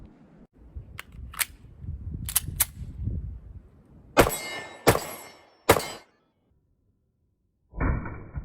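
Pistol shots from a Sig P365 NRA edition fired outdoors, several sharp cracks spaced a second or so apart, loud and close, with quieter handling noise between them.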